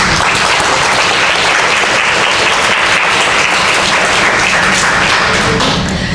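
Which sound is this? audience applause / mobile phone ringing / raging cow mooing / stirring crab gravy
audience applause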